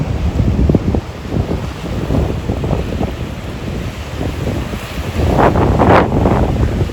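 Steady roar of surf at Tarague Beach, Guam, with wind buffeting the microphone, waves washing in and breaking louder near the end.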